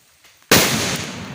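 A firecracker bomb goes off outdoors on a rainy day: one sudden, very loud bang after a quiet moment, followed by a long rumbling echo that fades only slowly.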